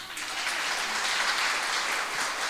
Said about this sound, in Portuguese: ele é digno de uma salva de palmas